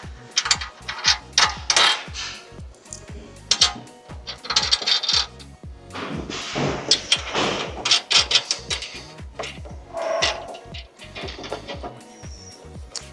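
Mounting plate being fitted with washers and screws to the left exterior rear door of a Mercedes Sprinter van, heard as close, sharp metallic clinks and jingles of small hardware handled in quick irregular bursts, with no talk.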